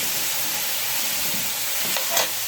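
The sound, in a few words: carrot and bell pepper frying in a pan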